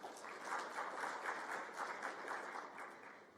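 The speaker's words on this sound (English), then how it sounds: "Another round of applause for him" An audience claps at the official closing ceremony of an expo in Kigali, a steady, moderately distant round of applause from many hands that holds evenly throughout.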